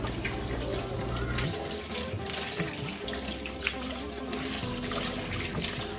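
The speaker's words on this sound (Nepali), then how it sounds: "यसलाई चाहिँ मजाले पानीमा छमछम गरेर पखालेर" Running tap water splashes steadily into a sink while raw pork pieces are swished and rinsed by hand, a close, continuous gush with shifting sloshing tones and no voices.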